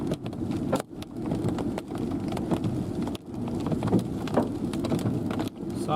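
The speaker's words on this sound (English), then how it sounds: "You can see all the hailstones coming down." Soft hailstones fall during a storm over the plains of NW Kansas and SE Nebraska, a dense, continuous patter of ticks and taps with brief dips, heard close and fairly quiet.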